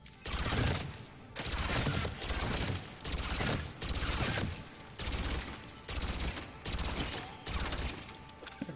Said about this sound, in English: Probably want to use my shitty gun for this.